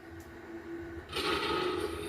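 A Plecter Labs Crystal Focus X lightsaber soundboard hum drones low and steady, then swells into a louder, brighter buzzing roar about halfway through, sustained to the end.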